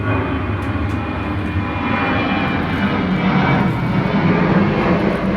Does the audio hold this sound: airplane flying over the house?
yes